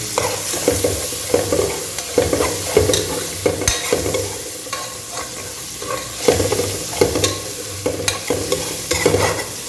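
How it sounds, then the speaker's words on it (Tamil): Cinnamon, cardamom, cloves, bay leaf, pepper and onions frying in a pan for mutton dum biryani, with a steady close sizzle and repeated scraping stirs throughout, no talking. "பட்டை ஏலக்காய் கிராம்பு பேலீஃபு பெப்பர் உங்கள் தேவையான பெப்பர் போட்டு அது கொஞ்சம் வதங்கட்டும்"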